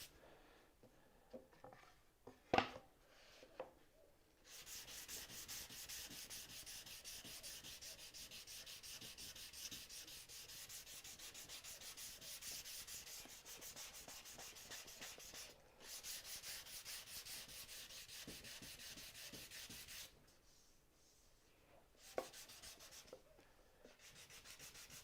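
Hand sanding a wooden finger-joint box lid with 240-grit paper: a long, steady, soft rasping scrub, quiet and close, broken by short pauses and a few light knocks, with no voices.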